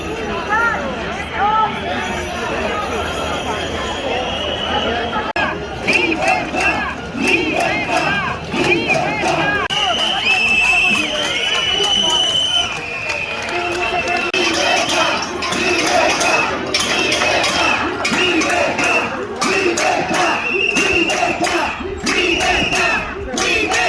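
A large crowd of protesters marching in Italy chants and shouts in loud rhythmic bursts, with dense hubbub and cheering swelling and falling throughout.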